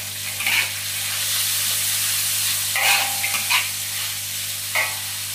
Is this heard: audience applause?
no